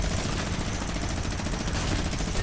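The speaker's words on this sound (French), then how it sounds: "Et toi, je vais bien t'avoir au sniper headshot." Sniper rifle gunfire in a first-person shooter video game match, a dense, loud, continuous rattle of shots and impacts filling the whole moment without pause, with no voices.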